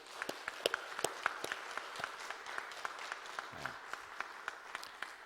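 A church congregation at a Wednesday prayer service applauds the associate ministers, a pastor and the praise team, with a fairly quiet, steady patter of clapping and sharp individual claps standing out throughout.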